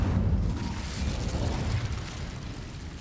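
The Incendio fire spell is cast in the video game Hogwarts Legacy, giving a loud, continuous roaring burst of flame that stays full and dense for about three seconds with no pause.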